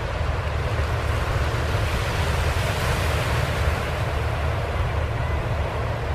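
Ocean waves wash steadily against the rocky coastline at Portsmouth, New Hampshire, on a foggy morning, a loud, continuous rushing surf with some wind noise and no talking.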